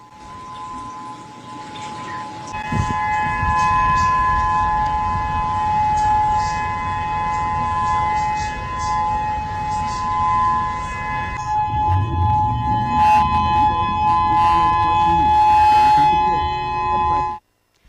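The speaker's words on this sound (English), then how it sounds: "The siren, you know that you're being alerted" A loud warning siren wails continuously with a sustained steady tone and shifting harmonics, while voices and background commotion come and go beneath it.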